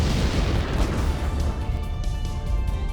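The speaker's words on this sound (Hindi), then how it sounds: "पटाखों में आग लगने के बाद हर तरफ विस्फोट हो रहा है" Continuous heavy rumbling blasts and crackling bursts from a firecracker factory explosion, loud and dense with no pauses.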